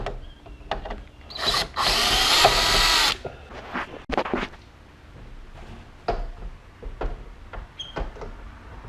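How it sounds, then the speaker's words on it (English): A power screwdriver or drill whirs in a sustained loud burst, then in shorter bursts, as it backs screws out of the grille on a 2016 Toyota Tacoma TRD Pro, with clicks and handling noises between runs. "I would recommend using a power screwdriver."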